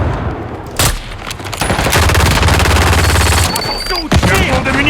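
Rapid bursts of automatic gunfire in the video game Call of Duty, loud and close, with a sharp shot early on and dense firing running through most of the stretch.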